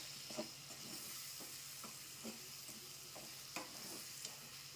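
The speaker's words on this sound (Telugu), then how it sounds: "టమాటాలు వేసి ఎమ్మటే కలపగానే ఉడకవండి. ఇట్లా ఉప్పు కారం పెడితే మంచిగా ఉడుకుతాయి." Tomatoes with salt and chili powder stirred in a hot pan, a soft steady sizzle with repeated scraping strokes of the spoon, close and quiet.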